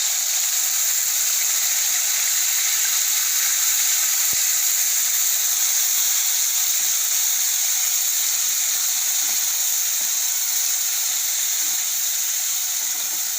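Chopped tomatoes hit hot oil already seasoned with ginger and asafoetida for a tomato and drumstick curry, giving a loud, steady sizzling hiss close by that runs unbroken, with one brief click midway.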